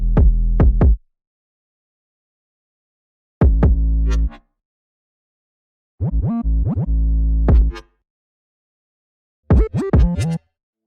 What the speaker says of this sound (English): this is quite a simple like 808 pattern when it comes to drill